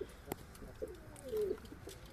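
Soft pigeon coos close by in a high-flying pigeon breeding loft, a short low murmuring call in a quiet space with faint rustles and taps.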